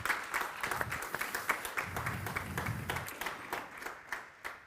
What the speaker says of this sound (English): So I think that's also a huge applause for.